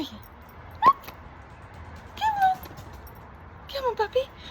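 A pet cockapoo dog whimpers in three short, high, whiny bursts spaced a second or so apart, close and fairly quiet over a calm background.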